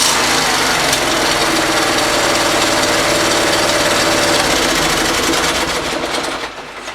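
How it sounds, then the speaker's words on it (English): Cold engine stuttering and revving as the gas pedal is pressed, a loud, dense, continuous mechanical roar held steady close by before easing off at the end. "The engine's cold, so it's going to stutter a little bit."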